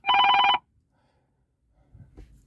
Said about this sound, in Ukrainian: Телефон телефонує